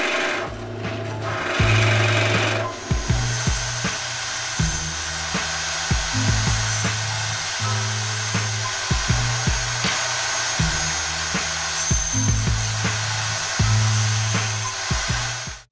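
A drill press fitted with a Forstner bit cuts close by, a steady motor drone broken by regular, repeated grinding pulses that fade out at the end.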